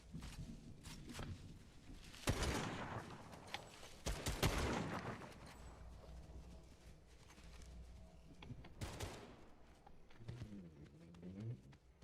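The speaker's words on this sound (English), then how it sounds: "Oh, gunshots on me." Gunfire in a video game: a few sharp, loud bursts of shots at intervals over a low background rumble, with quiet talk near the end.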